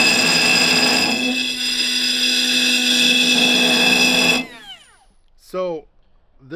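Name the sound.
Bosch 12V right angle tool GWG12V-20S running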